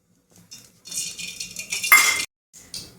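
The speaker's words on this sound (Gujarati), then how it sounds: "3-4 ચમચી તેલ લેવાનું છે।" Spoonfuls of oil go into a pan while making dabeli masala, with a metal spoon clinking and scraping against the cookware in short bursts, close by with no voices.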